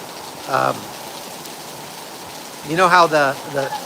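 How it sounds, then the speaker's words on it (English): Heavy tropical rain pours down in Panama as a steady, dense hiss throughout, while someone talks over it in short bursts. "Man, this rain we got a real Panama rain going here."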